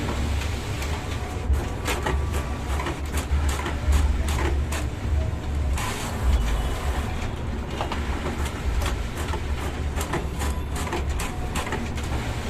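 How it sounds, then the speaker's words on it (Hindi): An Epson L15160 A3 all-in-one printer scans and copies double-sided, with steady mechanical whirring, rolling paper feed and repeated clicks and clunks going on throughout. "ये डबल साइड स्कैनिंग के साथ साथ डबल साइड प्रिंटिंग भी कर रहा है, यानी कि डबल साइड कॉपी कर रहा है"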